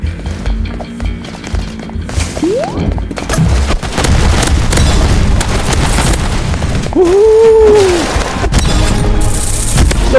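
Loud, chaotic action in the Roblox game Hyper Shot, with booming explosions and rumbling blasts layered over constant noisy effects, and a brief tonal swoop partway through.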